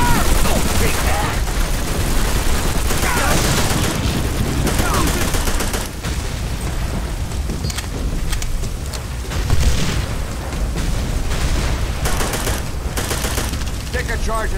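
Heavy World War II battle fire in Call of Duty: World at War, with near-continuous rifle and machine-gun shots and explosive booms in a loud, dense mix, and a voice heard amid the shooting.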